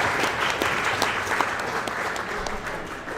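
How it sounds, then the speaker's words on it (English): An audience at an ice hockey team gathering claps warmly and steadily for a father, a dense, even wash of applause without cheering. "Let's clap it up for Dad."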